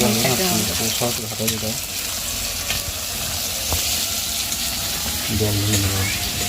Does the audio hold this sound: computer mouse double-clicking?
no